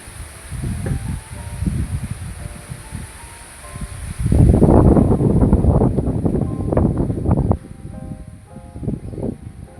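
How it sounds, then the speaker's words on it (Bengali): Strong gusts of wind rush and roar before a monsoon storm, swelling into a louder, sustained blast midway before easing again, with no voices heard. "খুব জোরে হাওয়া দিচ্ছে"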